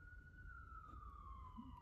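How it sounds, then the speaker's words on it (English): A police siren wails faintly in the distance, one long slowly falling tone over low traffic rumble. "sorry for the sirens there"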